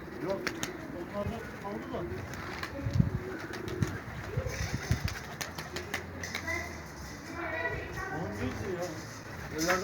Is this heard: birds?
yes